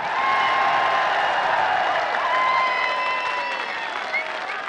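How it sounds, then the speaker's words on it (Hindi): A large crowd at a political rally for Imran Khan applauds, with dense, continuous clapping and cheering that stays loud and steady throughout. "हाथ उठाकर तालियों की गूंज में बताइए, इमरान खान से कितना प्यार करते हैं।"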